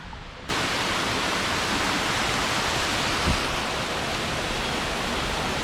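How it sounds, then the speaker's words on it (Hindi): The main waterfall at Woodland Water Park in Nainital roars as a loud, steady, unbroken rush of falling water that starts abruptly and dominates throughout. "अभी यहाँ पे शोर बहुत होगा, पानी के गिरने की आवाज़ बहुत तेज़ होगी"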